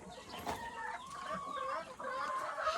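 Several chickens cluck continuously, with overlapping bird calls filling the whole stretch at a steady, moderately loud level, in a coop of Lohmann hens.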